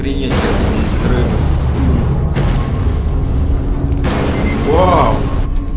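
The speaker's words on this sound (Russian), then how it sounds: "Охренеть, как здесь взрыв." Explosions in the video game Aliens: Colonial Marines, with heavy booming blasts and rumbling debris layered over a dense low roar, loud and sustained, with a few sharp bursts breaking through.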